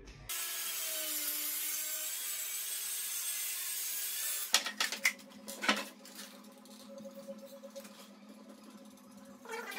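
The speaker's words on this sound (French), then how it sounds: "je vais découper un bout d'une chute" A kitchen worktop offcut is sawn by hand: a steady, rough rasp of strokes for several seconds, then a few louder knocks and scrapes as the cut ends and the piece is handled nearby.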